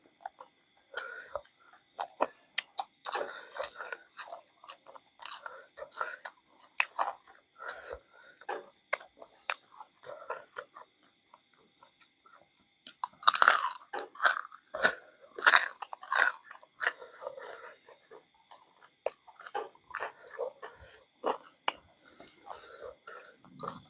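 Crunchy fried pork rinds being bitten and chewed up close, with repeated sharp crackling crunches in bursts and quiet murmured talk between bites.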